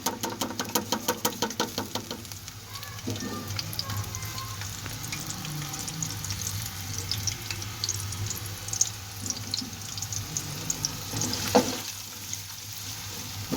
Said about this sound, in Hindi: तकरीबन 1 मिनट तक हम प्याज को इसमें घी में फ्राई करेंगे।